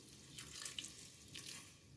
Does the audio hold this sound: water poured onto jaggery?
yes